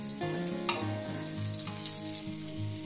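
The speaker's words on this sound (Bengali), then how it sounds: "দিয়ে দিচ্ছি সর্ষের তেল, আর ওর মধ্যে দিয়ে দিচ্ছি একটু বাটার" Butter melting into hot mustard oil in a pan before paneer is fried, a steady close sizzle and crackle with occasional soft stirring clinks, heard alone beside a low rhythmic humming tone.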